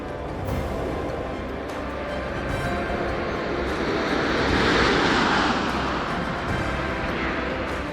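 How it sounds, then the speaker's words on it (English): Space Shuttle Atlantis comes in to land on the final shuttle mission. A broad, rushing roar swells to a peak partway through and then eases off slightly, heard alone with no voices. "Landing gear down and locked. Main gear touchdown."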